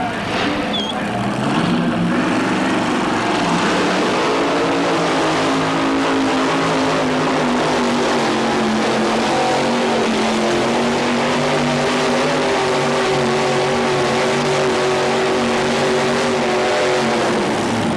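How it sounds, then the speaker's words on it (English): A 454 big block Chevrolet truck engine roars steadily at a truck pulling event, loud and sustained throughout with a deep rumbling drone and slight shifts in pitch. "454 big block Chevrolet, Harley Swint trying to defend his champions"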